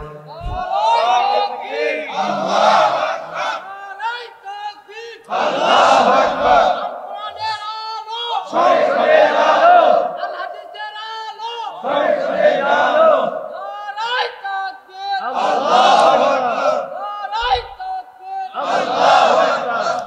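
A large crowd at a religious rally in Bangladesh shouts slogans in unison, with loud rhythmic call-and-response bursts separated by short pauses and a leader's voice between them.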